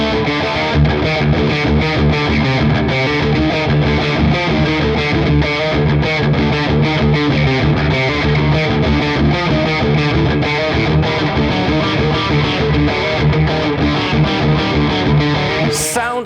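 Loud, continuous electric guitar, a 2024 PRS SE NF3, with a heavy distorted tone, played densely without pause.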